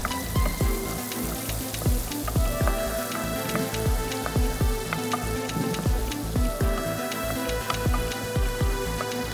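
Minced garlic sizzles in oil in a pan, a steady bright crackle with frequent sharp pops and spits, close and continuous with no talking.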